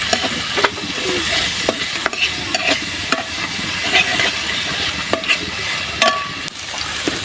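Onion, green chili and garlic paste stirred in a hot frying pan, with a steady close sizzle and repeated sharp scrapes and taps of the spoon against the pan.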